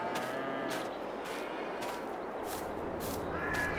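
Cows mooing in the farming video game Farming Simulator 22, several long, loud lowing calls repeating at a steady pace over a constant farmyard ambience, with no speech.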